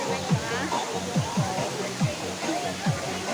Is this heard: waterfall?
yes